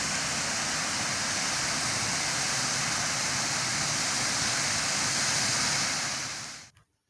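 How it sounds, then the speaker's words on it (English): A winter waterfall on the Amargosa River in Amargosa Canyon gives a steady, loud, broadband rush of falling water with no talk, holding even before cutting off abruptly near the end. "listen to the peaceful waterfall before we head on to our next adventure"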